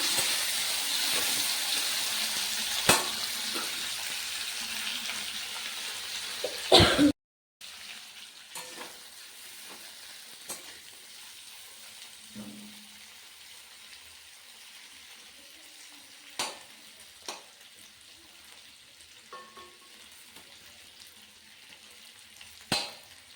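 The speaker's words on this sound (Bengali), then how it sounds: "আলুগুলো ভেজে নিচ্ছি।" Potatoes frying in oil for a bata fish curry give a steady broadband sizzle with occasional clicks of stirring; a brief dropout interrupts it early, after which the frying hiss continues more quietly.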